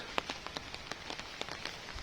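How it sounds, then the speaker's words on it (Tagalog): Rain falling outdoors onto a surface, scattered drops pattering and ticking at an irregular pace, moderately close and alone without any talking. "Nabutan na ng ulan."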